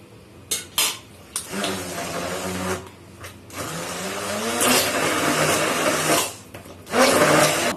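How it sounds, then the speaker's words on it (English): A blender whirs steadily through mango stock for aam panna, its motor rising and holding a loud, grinding drone after a few short starts and clunks. "the stock that we had from mangoes, we're going to add them up and then blend it"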